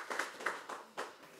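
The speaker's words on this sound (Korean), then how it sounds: "박수 한번 칠까요?" A small group claps hands at an indoor parliamentary gathering, a brief, light burst of a few separate claps, faint and close, with no voices over them.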